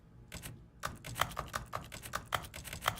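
Computer keyboard typing in the video game The Stanley Parable, a quick run of crisp, close key clicks in an uneven rhythm after a brief opening tap, fairly quiet and heard alone without speech.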